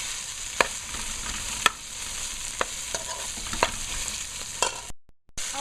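Tomato paste fries in a pot for beef stew, a low steady sizzle broken by several sharp spoon clicks and scrapes as it is stirred. A brief silence comes near the end, and no one speaks.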